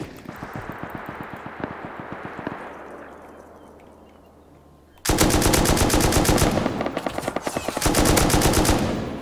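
Gunfire in a fight in the survival game Rust: a slower run of distant shots fades out, then loud, close rapid automatic bursts take over for the last several seconds.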